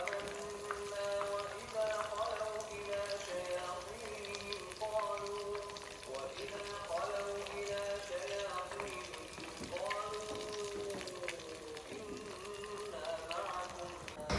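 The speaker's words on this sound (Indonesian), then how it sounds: "di sini aku goreng nuggetnya di api sedang aja ya teman-teman" Chicken nuggets fry in oil over medium heat while a pre-dawn Ramadan meal is being made, giving a steady crackling sizzle throughout with voices or music faintly over it.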